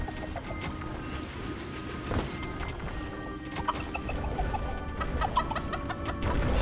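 Chickens in the video game Dungeons 4 cluck repeatedly, several birds overlapping in a busy poultry-farm scene, with soft game ambience underneath and clucks growing more frequent toward the end.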